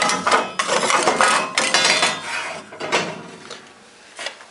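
A metal pan slides and scrapes into the front of a top-opening smoker used for smoking salmon, with close, loud clattering rasps and a few sharp knocks over several seconds.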